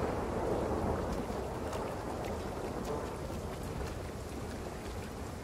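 Rain pours steadily in the survival video game Nightingale: a loud, even wash of broadband noise with a windy, rumbling undertone.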